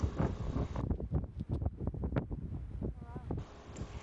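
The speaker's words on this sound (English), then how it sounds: "it was really windy" Strong wind buffets the microphone on the beach at Seaham, England, a steady loud roar with gusty rumbles and some rustling throughout, with no one speaking.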